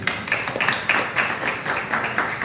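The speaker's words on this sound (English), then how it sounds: "Let's give Daraji a round of applause." Audience applause in a mandir, a steady run of claps from a crowd with a regular pulsing rhythm, moderately close and continuous through the whole short stretch.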